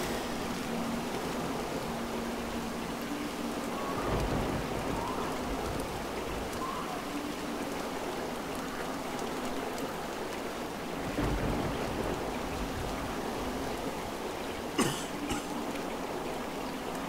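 Steady rain falls in the video game Montague's Mount as a soft, continuous hiss with faint low rumbles and a brief sharp crack near the end.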